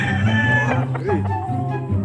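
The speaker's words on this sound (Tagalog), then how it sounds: "So, yan po ang mga manok." Chickens and a rooster on a Philippine backyard farm, with crowing and clucking sounding close and loud throughout, mixed with steady background noise and possible voices.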